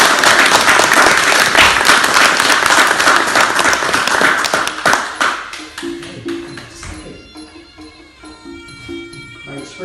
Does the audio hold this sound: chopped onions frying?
no